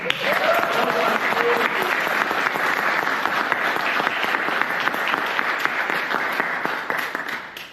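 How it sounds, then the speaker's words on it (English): An enthusiastic audience at a Toastmasters club meeting breaks into steady, full applause that holds at a strong level throughout and tapers only at the very end. "I'd like you to give a rapturous round of applause to the new blood that will be the future of our club."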